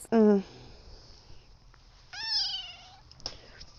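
A pet cat meows twice, a loud sharp cry at the start and a longer rising-falling meow a couple of seconds later, close by in a quiet room.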